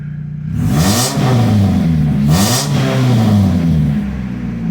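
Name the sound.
Chevrolet HHR engine revving after upgrades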